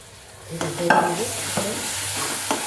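Pav bhaji vegetables are stirred and sautéed in a pan, a close sizzle with several distinct scraping strokes of a ladle against the pan's base.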